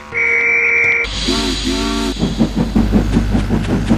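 A steam train whistle blows two loud, shrill tones, followed by a burst of steam hiss and the rhythmic chuffing of the locomotive pulling away.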